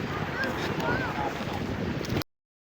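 Strong wind gusts in Letná Park, Prague, buffeting the microphone with a steady, close rushing roar for about two seconds before it cuts off abruptly.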